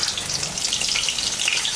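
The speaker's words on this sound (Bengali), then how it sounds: "পনিরটা ভাজা হয়ে গেছে," Paneer fries in hot oil in a pan, a dense, continuous crackling sizzle heard close and steady throughout without talk.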